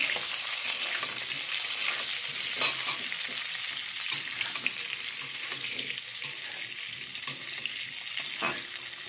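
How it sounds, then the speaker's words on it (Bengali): Boiled potatoes fry in oil with cumin, dried chilli and bay leaf, giving a continuous close sizzle broken by irregular scraping and clattering as a utensil stirs the pan. "আলুগুলো একটু নেড়ে চেড়ে ভেজে নেব।"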